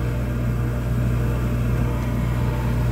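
An old Lennox packaged rooftop unit with a direct-drive motor and a faulty pressure switch runs with a steady, even low hum and mechanical drone, close by and unchanging.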